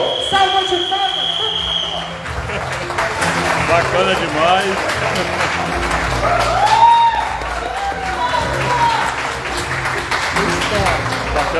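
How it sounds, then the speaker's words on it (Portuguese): Audience at a book launch for a booklet on Pedro do Cascudo breaking into sustained applause and cheering, with whoops and a voice speaking over the clapping. "Salva de palmas!"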